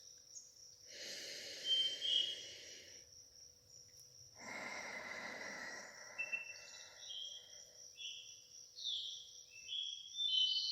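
Deep breathing in through the nose and out through the mouth: two long, soft breaths, an inhale then an exhale, close and quiet over faint tonal background sounds.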